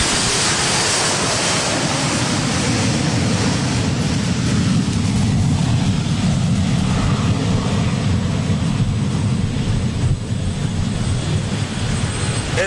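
A commercial airliner takes off, producing a loud, continuous roar of jet engines that fills the whole stretch without a break and sounds close and constant, with no talk.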